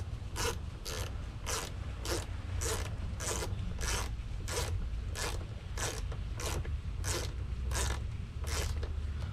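A Leatherman multitool backs long screws out of a Freightliner Cascadia door panel, giving a quiet, regular ratcheting click repeated about every second under a low background hum.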